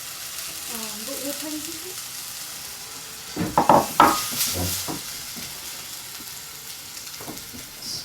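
Mung bean dal tipped into a hot pan of tomatoes, garlic and black mustard seeds, with a steady sizzling hiss that swells into a louder crackling burst midway, then settles. A voice speaks briefly near the start.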